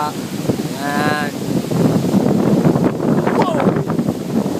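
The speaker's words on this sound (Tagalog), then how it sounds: "ang lakas ng hangin niya, no?" Strong wind buffets the microphone in a continuous rumbling roar by the shore while people talk over it.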